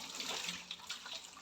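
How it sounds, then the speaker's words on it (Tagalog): Water runs steadily from a kitchen tap into a sink, a continuous, even hiss and splash at close range with no talking. "Bumalik na ang daloy ng aming tubig."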